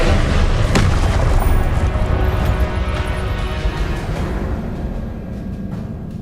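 The Confringo blasting spell in Hogwarts Legacy lets off a loud, booming explosion that rumbles heavily and then slowly decays into a broad roar, with no voices.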